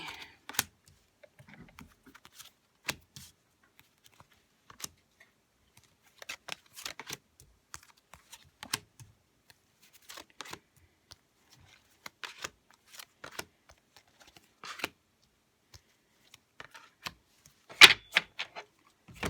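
Tarot cards are shuffled and laid out on a surface, producing sparse close clicks, taps and soft flicks scattered irregularly across a quiet background.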